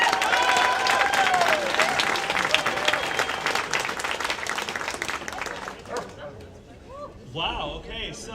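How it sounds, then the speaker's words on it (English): Loud, dense applause and cheering from a large crowd at a peace parade gathering, continuous for about six seconds before thinning into scattered claps and voices. "You give yourselves a huge round of applause."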